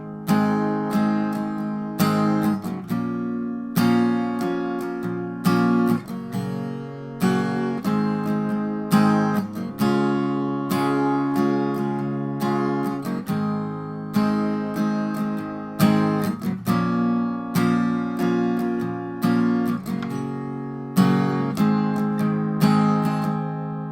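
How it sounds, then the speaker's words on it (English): Steady acoustic guitar strumming of a song, repeating one pattern of downs and ups over a chord progression, close and clear, with no voices. "same chords, and it's the same strumming pattern"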